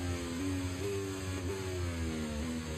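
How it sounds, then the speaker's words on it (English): Formula 1 car engine in the F1 24 video game at Imola or Monza, a steady loud mid-pitched engine drone with harmonic tones stepping up and down as the car engine brakes, continuous with no talk. "He's engine braking, as you can hear."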